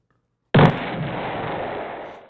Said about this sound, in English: Just the classic explosion.